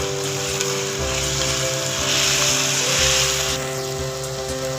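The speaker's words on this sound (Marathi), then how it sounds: "कांदा टोमॅटो व्यवस्थित मी परतून घेतलाय" Onion and tomato sauté in a pan for a Malvani dried bombil chutney, a continuous loud sizzle over a steady low mechanical hum that swells briefly, with no voices.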